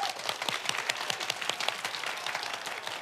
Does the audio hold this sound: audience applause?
yes